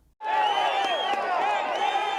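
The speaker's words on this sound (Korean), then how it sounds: "다른 곳에서도 생존자가 확인되면 환호성이 나옵니다" A crowd at an earthquake rescue site bursts into loud, sustained cheering and shouting as a survivor is found, starting abruptly after a brief silence.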